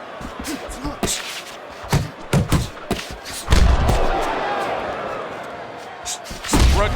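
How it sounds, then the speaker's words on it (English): Heavy gloved punches, among them a right hand landing, thump in Fight Night Champion, a boxing game: a burst of sharp blows early, then a crowd-like wash and one more hit near the end. "And now the right hand lands because of the work done by the jab."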